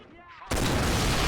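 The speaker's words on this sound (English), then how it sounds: "That was a huge explosion." A huge explosion in the Grey Army Men war video game, an abrupt, loud, roaring blast that slams in after a quieter moment and sustains as a dense, broadband rumble.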